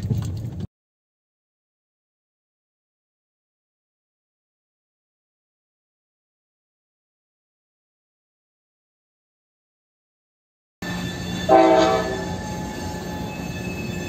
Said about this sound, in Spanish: Escucho el silbato de la Jevo.